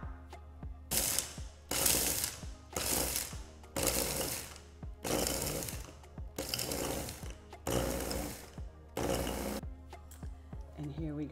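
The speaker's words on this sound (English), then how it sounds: "And now we're gonna grind them super fine." Toasted almonds are ground super fine in a kitchen appliance, sounding in repeated loud bursts of whirring grinding separated by short pauses, about eight pulses in a row.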